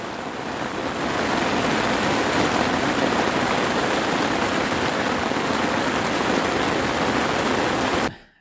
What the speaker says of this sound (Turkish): Müthiş bir yağmur başladı.